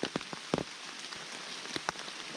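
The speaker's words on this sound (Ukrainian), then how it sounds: "в лісі потемніло, падає дощ." Soft rainfall in woods, with scattered close drops ticking on leaves against a faint steady shower.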